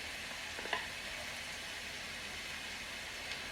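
Scallions and Scotch Bonnet pepper fry in a pan with a steady, moderate sizzle, a couple of faint clinks from stirring, and no talking.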